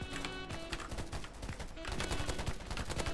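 Rapid M14 rifle fire in a multiplayer shooter match on the Metro map, loud, dense bursts of sharp cracks in quick succession that run the whole stretch, with other battle noise mixed in.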